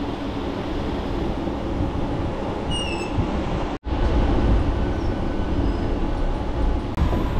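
A Digha special train heard from inside, a loud continuous rumble and rattle of wheels on track with a faint whistle-like squeal, a sudden brief dropout midway, then the roar resumes.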